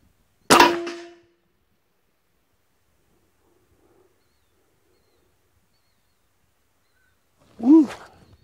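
A single sharp airgun shot cracks out, followed after a long quiet pause by the ringing clang of a 357 calibre 120 grain steel core pellet hitting a target.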